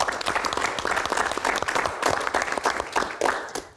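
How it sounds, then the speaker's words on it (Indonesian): An audience claps steadily for a few seconds at a Q&A event, dense and fairly close applause with no talking over it. "Tepuk tangan."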